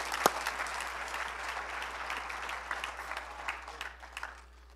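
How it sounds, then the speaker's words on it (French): A seated audience at a French-language talk breaks into applause, a single sharp clap followed by moderate, even clapping that slowly thins and fades toward the end. "Est-ce qu'on peut applaudir la notion de confidentialité?"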